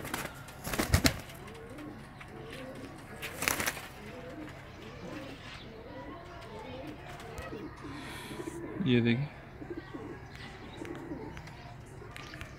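Pigeons in a keeper's flock coo in soft, repeated low rounds under someone speaking nearby, with a couple of sharp bursts of noise and brief wing flutters.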